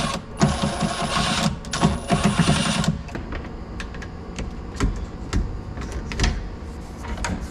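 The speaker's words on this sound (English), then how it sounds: "we're gonna get one screw in here first." A screw is driven into a kitchen cabinet, with two loud, close bursts of a buzzing power driver followed by scattered clicks and handling knocks.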